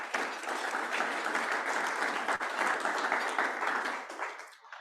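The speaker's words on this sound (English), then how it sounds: "So please give her the applause." Sustained audience applause at a Rotary Melbourne young achievers award presentation, a dense steady wash of many hands clapping that holds evenly before tapering off at the end.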